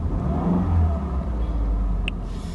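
A 2014 Subaru Outback's engine accelerates from inside the cabin, a steady low rumble and mid-range whir that swells briefly then holds, with a small click near the end.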